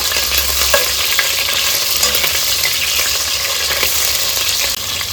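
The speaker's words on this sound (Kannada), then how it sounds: "ಒಂದು ಮೀಡಿಯಂ ಸೈಜ್ ಈರುಳ್ಳಿನ ಸ್ಲೈಸ್ ಆಗಿ ಕಟ್ ಮಾಡಿ ಸೇರಿಸ್ಕೊಳ್ಳೋಣ. ಎಲ್ಲ ಮಿಕ್ಸ್ ಮಾಡ್ಕೊಳ್ಳೋಣ." Sliced medium onion and mustard seeds frying in hot oil for a Coorg-style chicken curry, stirred in the pan with a loud, dense, continuous sizzle that stays close and steady throughout, no voices.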